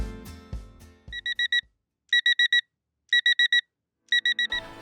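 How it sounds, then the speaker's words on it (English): An alarm clock goes off in the morning with four bursts of rapid electronic beeps, four or five pulses each, evenly spaced about a second apart, following a few soft chiming tones at the start. "The alarm went off at"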